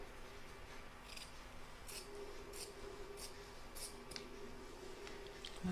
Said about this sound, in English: I'm going to trim back this batting here as well